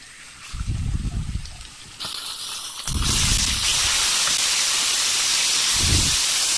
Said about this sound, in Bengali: সুন্দর করে হালকাভাবে ভেজে নেব মাছটা।